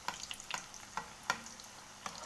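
Oudinat Al Qadi pastry fries in oil with a faint, soft sizzle and a few small crackles and pops, with no talking.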